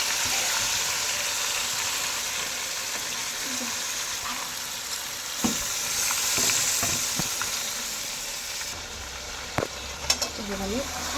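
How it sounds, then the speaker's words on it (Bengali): Marinated chicken frying in hot oil in a wok over high flame, a loud steady hiss with occasional stirring scrapes and clinks near the end. "মাংস তৈরি হবে কষিয়ে নেব ভালো করে গ্যাসটা হাই ফ্লেমে দিতে হবে"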